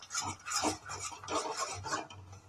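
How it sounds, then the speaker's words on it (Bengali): Spice paste with ground coriander being stirred and sautéed in a pan for Bengali doi katla fish curry, a steady scraping of the spoon against the metal pan repeating in an uneven rhythm, close and moderately loud, with no talking. "এবার এই মশলাটা দেওয়ার পর আমি খুব ভালো করে এটার সঙ্গে কষিয়ে নেব"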